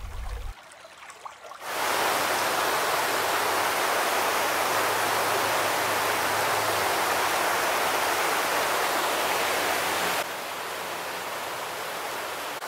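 Waterfalls pour down through a mountain forest gorge in North Carolina's Nantahala National Forest, a steady, loud, full rush of falling water that surges in after a brief quiet start and holds constant, easing slightly toward the end.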